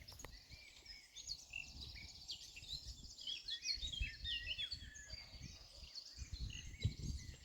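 A European robin sings in varied high chirps and trills from high up in a tree, fairly faint over a low rustling background, with no talking.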